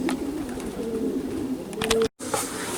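Racing pigeons are heard at the home loft during a race from Wittingen: close, soft cooing with a few brief clatters and a short dropout near the end.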